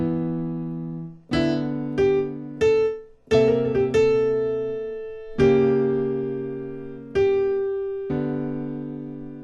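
A bluesy piano phrase played slowly, separate chords struck one at a time and left to ring and fade between strikes.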